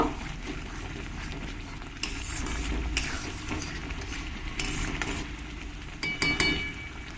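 A spoon stirs a spoonful of turmeric and Kashmiri chilli powder into spices for a chicken and potato jhol, giving close scraping and clinking against the pan in several uneven strokes over a steady background hum.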